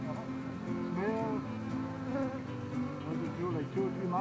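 A swarm of honey bees high in a tree during a bee rescue makes a dense, continuous droning buzz close by, with individual bees' pitches rising and falling over the steady hum.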